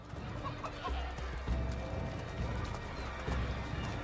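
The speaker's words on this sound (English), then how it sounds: "Chickens, animals as part of the crowd in the city is also a new feature." Chickens and a horse in a crowded Boston street in Assassin's Creed 3: hooves clip-clop steadily and hens cluck softly under a busy crowd murmur, with voices talking in the background.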